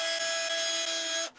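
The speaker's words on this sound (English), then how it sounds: "I drill," A power drill bores into a walnut base for a table saw jig, giving a steady high whine with a strong tonal hum that holds for about a second, then cuts off.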